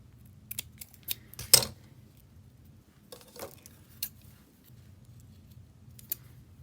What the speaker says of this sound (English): I'm going to go ahead and cut it like this.